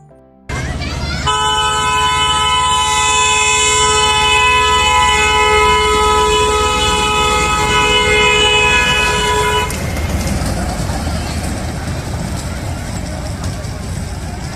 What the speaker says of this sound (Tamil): அங்கே பாருங்கள், ட்ரெயின் வந்துக்கிட்டு இருக்கு.